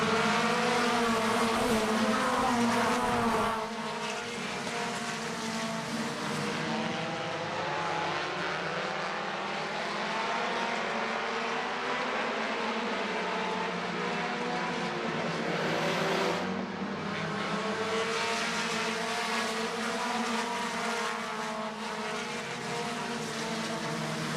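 Race cars at a season-opening event roar steadily around the track, a dense continuous engine drone that shifts in pitch as cars pass, with one brief drop near the middle, and no voices.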